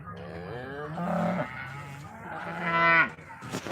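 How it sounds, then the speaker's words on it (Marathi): A black cow at a cattle market lets out a drawn-out, resonant moo close by, rising in pitch toward the end, with a second bellowing call following. "बघा या गाय ही काळी गाय बघा"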